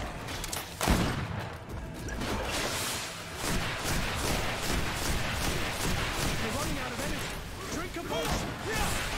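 Gunshots and clashing combat effects in the video game Greedfall, a busy, continuous battle din with a sharp hit near the start, with someone talking over it.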